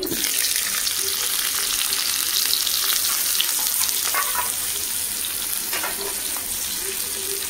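Chopped onion frying in white oil in a wok, a steady, close, fairly loud sizzle and crackle with occasional stirring scrapes running throughout.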